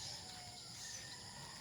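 Faint bird calls sound outdoors in the early morning at Monte Verde, thin chirps over a quiet, steady background with no people around.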